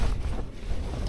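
Steady, blustery wind rushes across the microphone with a low rumble on wet Dartmoor, alongside faint water movement, and no voices.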